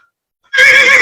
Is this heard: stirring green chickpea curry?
no